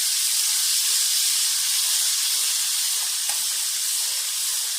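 Two spoonfuls of garlic paste fry in a pan, giving a steady, even hiss of sizzling oil that carries on without a break and with no talking.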